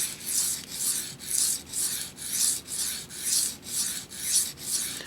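A dull knife is drawn across the hard stones of a Smiths two-stone sharpening kit while the bevel is set, giving about ten evenly spaced gritty rasping strokes in a steady back-and-forth rhythm, close and alone.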